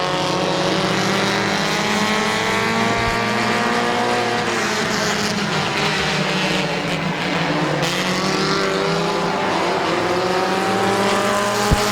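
Race cars roaring around Midvale Speedway during a race, a loud, continuous drone of engines whose pitch rises and falls as cars pass, with a few sharp clunks.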